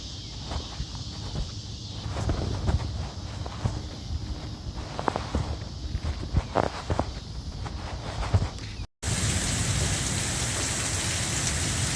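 Steady rain patters on a street after a passing storm, a dense, even hiss throughout with scattered nearby drips and footstep-like taps, briefly cutting out before resuming slightly louder.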